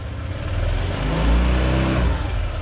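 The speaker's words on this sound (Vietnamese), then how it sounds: "rồi mình rồ ga nhẹ tại chỗ" A used car's engine revs lightly while the car sits stationary, giving a low, steady, moderately loud mechanical hum that swells briefly in the middle, with no voices over it.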